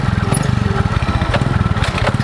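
A motorcycle engine running nearby with a steady, throbbing mid-pitched pulse, loud and continuous, with no one speaking.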